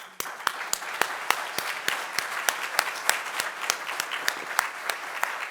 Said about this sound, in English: This muted clapping is it's funny to watch.